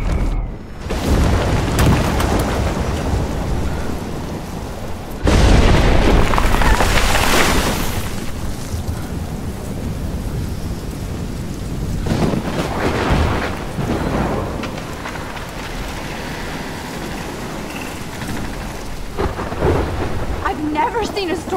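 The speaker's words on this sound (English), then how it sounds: "never seen a storm like this in Oregon." A heavy thunderstorm in the video game Life Is Strange, set in Oregon: steady loud rain pours throughout while deep thunder booms and rolls, with a big crack about a quarter of the way in and further rumbles later.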